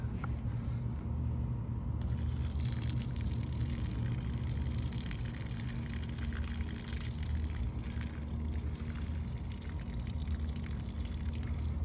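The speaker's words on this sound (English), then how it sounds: "Now what you do is you drain off the water from underneath." Water drains out from under a block of cleaned beeswax, making a steady low gushing and trickling that runs continuously and fairly quietly throughout, with no speech.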